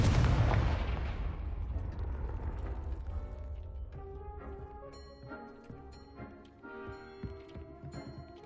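A Confringo blasting spell going off in Hogwarts Legacy: a loud, close explosion bursts out at once and fades into a long rumbling tail, followed by soft scattered clinks and chimes of game sound.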